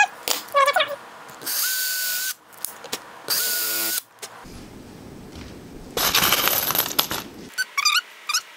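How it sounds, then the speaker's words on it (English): A power drill fitted with a drill bit and countersink bores pilot holes into wood in several short bursts of whining motor noise, with scraping and clattering handling sounds and brief pauses between them. "I'm going to be using a drill bit and countersink to drill pilot holes so that we don't crack this wood"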